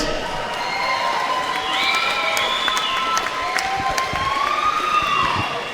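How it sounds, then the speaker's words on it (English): A fight-night crowd at a RISE Championship event applauds and cheers the fighters after the bout, with continuous clapping and shouting and whistle-like tones rising over the noise. "Round of applause for all the fighters tonight."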